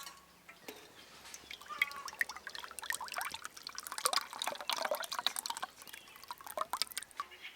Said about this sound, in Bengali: এটা আর একটু ভালো করে ফুটিয়ে নিলে থকথকে হয়ে যাবে, পুডিংটা ভালোভাবে বসবে। এদিকে ফুটতে থাক